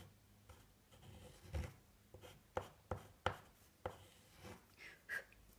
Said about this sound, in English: So get your chalk, write down a number.